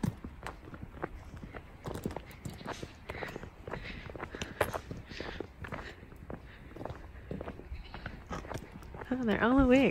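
Goats bleat on a countryside farm in Bavaria, with a wavering bleat rising loud and close near the end, after footsteps and speech-like chatter.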